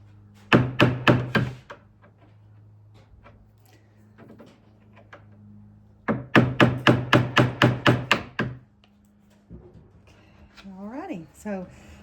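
Two quick runs of sharp hammer blows drive nails into wooden kitchen furniture, about five strikes and then about eight, with quiet knocks between and a voice talking at the end.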